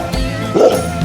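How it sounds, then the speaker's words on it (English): A dog barks once, close and clear, in a short, whimpery yelp, used as a sound for a children's animal-guessing game. "It's a dog."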